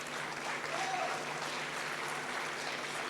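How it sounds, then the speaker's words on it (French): An audience at the Natexpo 2024 award ceremony applauds, producing a dense, steady wash of clapping that sounds moderately distant and holds even throughout. "Sous vos applaudissements."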